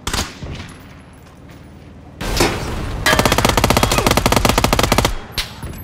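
Automatic gunfire in the PUBG battle royale game: a burst of shots near 2.3 seconds, then a dense, loud rapid-fire volley of a machine gun lasting about two seconds, with scattered single shots at the start and end.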